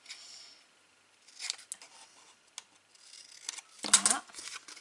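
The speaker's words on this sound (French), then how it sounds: "On coupe un peu plus là." Scissors snip paper for a pop-up butterfly craft, giving a few short, crisp cuts at close range. A quiet voice talks at the start, and a louder rustle comes near the end.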